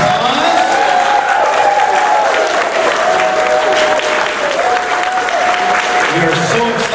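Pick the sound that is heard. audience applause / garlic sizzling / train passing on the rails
audience applause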